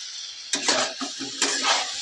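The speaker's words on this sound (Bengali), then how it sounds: "সব মশলার সাথে একসঙ্গে আলু, বেগুন, টমেটো সব একসঙ্গে আমি ভালো করে কষিয়ে নিচ্ছি।" A spoon scraping through a potato, eggplant and tomato curry with spices as it fries, two close stirring strokes over a steady sizzle.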